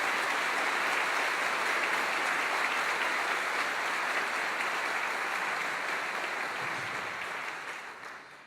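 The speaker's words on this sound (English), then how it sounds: "Let's give these folks a round of applause." An outdoor audience at a ribbon cutting ceremony claps in a full, steady round of applause that holds for several seconds, then fades near the end.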